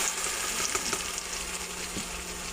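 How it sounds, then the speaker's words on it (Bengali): Ground spices fry in hot oil, giving a close, continuous loud sizzle with scattered small pops and no talking. "লাল লাল হয়ে গেছে ওখানে মশলাগুলো ছেড়ে দিব"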